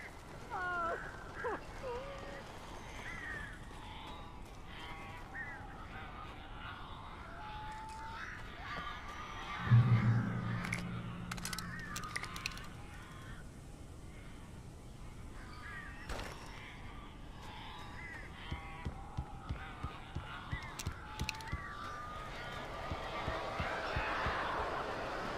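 Birds cawing and honking inside a cabin in the video game Alan Wake, with scattered caws and a sudden loud burst near the middle. Ambient rumble sits underneath, and rapid flapping or fluttering comes toward the end.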